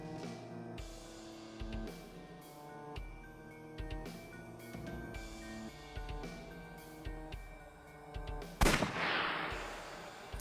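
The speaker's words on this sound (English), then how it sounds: "I'll try shooting it." Gunfire in the video game AI: The Somnium Files, a series of sharp shots over a tonal music backdrop, ending with one loud burst near the end.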